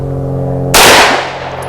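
A single loud gunshot cracks out partway through, sharp and broadband, then a short decaying echo over a low steady hum; only one report stands out rather than a clear pair.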